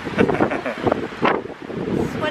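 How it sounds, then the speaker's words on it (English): Gusty wind in Hawaii buffets the microphone in uneven roaring bursts, loud and close, with faint background sounds mixed in. "Just a little windy today."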